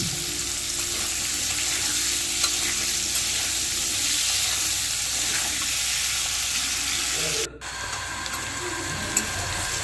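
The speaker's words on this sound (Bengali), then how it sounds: "আলুটাও সুন্দরভাবে ভাজা হয়ে গেছে" Potatoes frying in a pan give a loud, continuous sizzle that holds steady throughout, broken only by a brief dip near the end.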